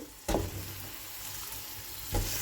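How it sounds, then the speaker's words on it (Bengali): Chicken pieces dropped onto fried onions in a pan give a soft, low sizzle, with two brief thumps or stirs at the start and end, fairly faint. "পেঁয়াজটা আমার বেশ সুন্দর করে ভাজা ভাজা হয়ে গেছে আমি এখন দিয়ে দেবো সবগুলো চিকেন ওর মধ্যে"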